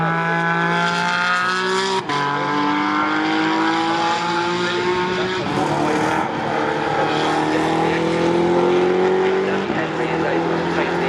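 GT4 race cars, McLarens and a Toyota, roar around Silverstone in close company, engines howling with rising and falling pitch as they shift gears, under a commentator's continuous talk.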